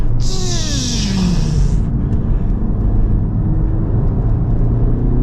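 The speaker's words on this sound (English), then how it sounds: "when you're coming down from speed, they kind of make race car brake noises" Brakes on a 2023 Honda Civic Type R slowing from speed at a track day give a brief high-pitched squeal over the loud, steady rumble of engine and road noise, then fade into continuous cabin drone.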